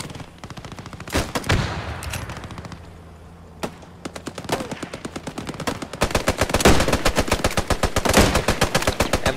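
Sustained machine-gun fire in the Post Scriptum World War II shooter, with rapid automatic bursts and single shots that crack loudly throughout and intensify into dense continuous firing toward the end.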